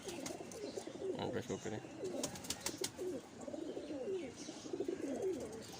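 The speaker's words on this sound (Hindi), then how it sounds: "सियालकोटी कबूतर है" Sialkoti pigeon, a roughly 18-year-old bird, gives repeated soft low coos at a steady rhythm, close by, under someone talking.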